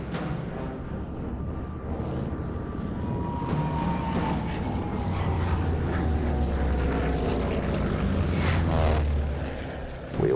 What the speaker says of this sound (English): We have Hitler's arrival, where the Junkers are actually being escorted by